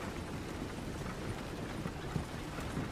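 Horse hooves clop along a road in the video game Red Dead Redemption 2, a soft, steady rhythm of hoofbeats under a low, continuous rumble with no talk.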